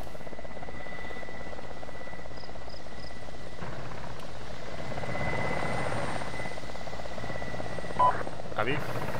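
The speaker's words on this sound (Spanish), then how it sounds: "Puto helicóptero, a ver si se va a tomar por culo por ahí con el ruido." A helicopter in the video game Arma 2 flying overhead, a steady rotor drone throughout that swells slightly midway, with faint radio chatter and small effects in the background.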